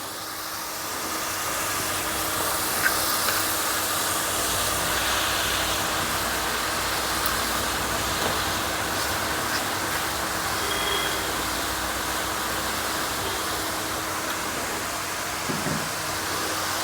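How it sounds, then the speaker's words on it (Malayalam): Beef is dropped into a hot pan of sautéed masala with turmeric for cutlets and stirred, giving a steady, loud broadband sizzle that continues evenly throughout with no talk. "ഇനി നമുക്ക് ഇതിനകത്തേക്ക് ഇറച്ചി ഇട്ട് കൊടുക്കാം."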